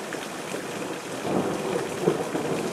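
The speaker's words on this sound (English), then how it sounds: "Storm's now coming over my house. No lightning, beyond thunder." Thunder rumbles low and deep through a thunderstorm over a house in Tacoma, Washington, swelling twice over a continuous hiss of falling rain.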